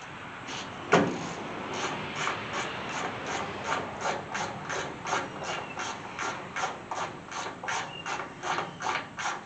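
A hand ratchet tightens bolts on the front end of a 1979 Chevy C10 squarebody pickup, giving a steady run of rhythmic clicking strokes, close and clear, after one sharp knock near the start.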